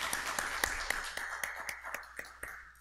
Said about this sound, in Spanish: Yo quisiera, por favor, que lo recibamos al doctor Pérez de los Reyes con un fuerte aplauso